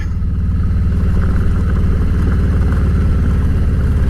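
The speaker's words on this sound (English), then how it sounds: "this is my 2017 Road King with a Milwaukee-Eight 107, affectionately known as Alice. And we're going up my treacherous gravel road." A 2017 Harley-Davidson Road King with a Milwaukee-Eight 107 V-twin climbing a rough gravel road, its loud, close, steady low engine rumble pulsing evenly with wind buffeting over it.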